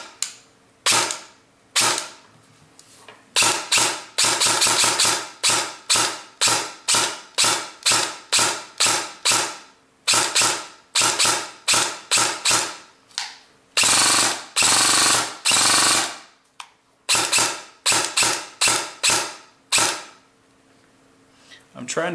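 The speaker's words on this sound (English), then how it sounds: "the trolley works perfectly even after modifications with the trigger" M16 rifle project with a modified trigger, its bolt trolley and trigger mechanism cycling in a long series of sharp, loud metallic clacks, some in rapid bursts and others spaced apart, with short pauses between.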